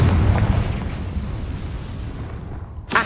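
A Confringo spell blast from Hogwarts Legacy booms loudly at the start and decays into a rumbling tail, with a sharp burst near the end.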